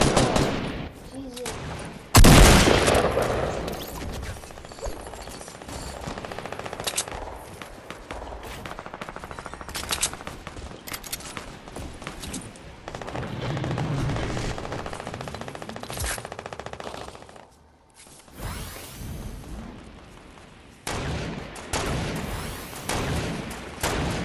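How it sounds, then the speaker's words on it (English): Gunfire in the Fortnite video game rattles almost without pause, with dense bursts of automatic fire and sharp single shots, loud and close, dipping briefly near the end before resuming. "Oh my god, there's so much gunshot."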